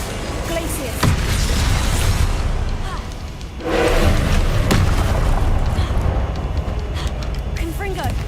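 Confringo blasting spell explosions in Hogwarts Legacy erupt as loud, dense booms with bursts and pops, a sustained roar of combat noise that swells after a brief lull, with a voice speaking over it.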